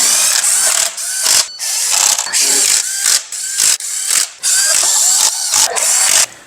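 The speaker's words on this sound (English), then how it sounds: "Now tighten down all the bolts." Valve cover bolts are tightened with a ratchet in loud, rapid clicking bursts separated by brief pauses, close up and repeated about a dozen times.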